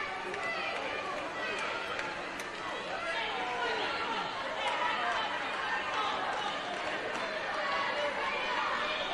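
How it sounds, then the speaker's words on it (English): Volleyball crowd inside Davis Fieldhouse at a women's championship match, a steady wash of murmuring, groaning and chatter from many spectators, with light squeaks and footsteps throughout and no clear single voice standing out. "And the crowd didn't like it here inside of the Davis Fieldhouse."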